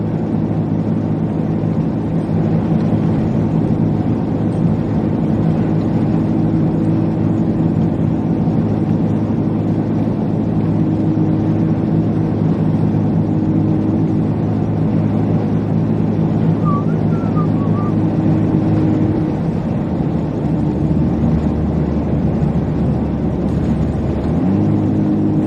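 A car with a busted exhaust drives on a wintry Midwest highway, a loud, constant low droning roar with a steady hum that shifts pitch near the end.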